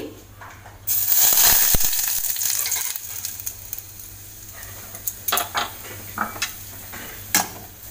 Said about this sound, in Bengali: সুজিটা আমি ভালো করে গাওয়া ঘিতে ভেজে নেব।